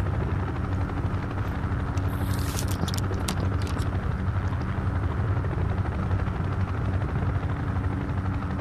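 Blackhawk helicopter in a video game, a steady loud rotor drone filling the whole stretch with a few brief sharp clatters early on, no talk.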